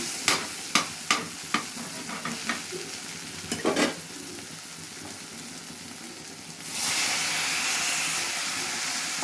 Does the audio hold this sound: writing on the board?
no